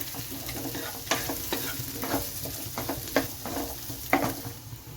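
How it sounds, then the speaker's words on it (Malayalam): Half a capsicum with green chillies stirred in a hot pan while making restaurant-style chilli chicken, a steady soft sizzle broken by repeated scraping strokes of the spoon, close up and without talk. "ഒരു ക്യാപ്സിക്കത്തിൻ്റെ പകുതി ഇട്ട് നമുക്കൊന്ന് ഇളക്കി"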